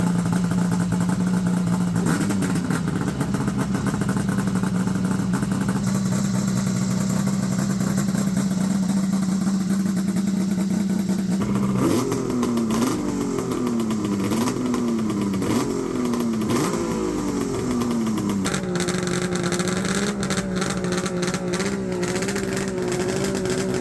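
A Ski-Doo Mach Z Summit snowmobile engine idles loudly, then revs repeatedly in quick rising bursts before settling back to a steady drone.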